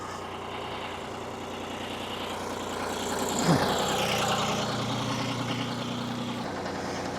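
An excavator engine idles with a steady low rumble at moderate distance, a slight swell in the middle and no talking.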